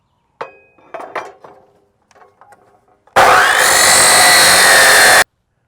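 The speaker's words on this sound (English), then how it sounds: "I'm using a chop saw because I have it" A chop saw slices through metal stock for a steel target hanger, a loud, steady two-second cutting whine that starts abruptly and stops cleanly, preceded by a few quieter knocks and handling clatter in a workshop.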